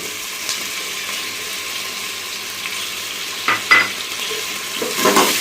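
Tomatoes frying with whole chillies and spices in a pot for black chana curry, a steady low sizzle throughout with a few louder stirring bursts near the end.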